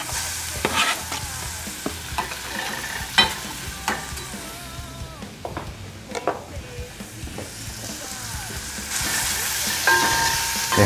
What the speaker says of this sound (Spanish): Dejamos freír hasta que se transparente la cebolla.